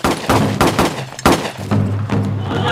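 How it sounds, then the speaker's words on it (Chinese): Machine gun fire in a Chinese film battle scene, a loud close series of rapid heavy bursts and thuds with a short gap, then more shots. "墩子怀抱机枪灭了整个保安团"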